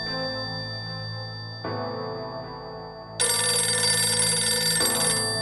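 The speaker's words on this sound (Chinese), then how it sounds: "屌，我电话竟然响喎！" An electronic telephone ringtone plays alone, its steady tonal melody stepping up in loudness in stages as more layers join, continuous and close throughout.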